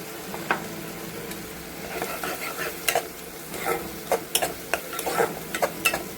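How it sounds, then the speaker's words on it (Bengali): Spices such as chili, coriander and cumin powder sizzle in oil for an egg and potato curry, with a steady frying hiss and irregular close scrapes and clicks from a stirring spoon against the pan. "এটা ভালো করে কষবো"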